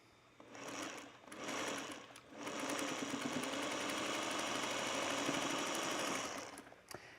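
A sewing machine stitches a spool quilt top. It starts with a few short bursts, then runs in one steady, fast whir for about five seconds before stopping, with a final quick burst. No one talks.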